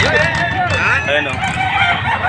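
Nine-month-old chickens at a Padre Garcia, Batangas poultry market, with a rooster crowing loudly and close over a steady crowd murmur and other fowl calls.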